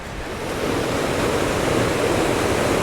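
A waterfall roars in a wooded canyon as a steady broadband rush of falling water, close and constant, with some wind on the microphone and no voices.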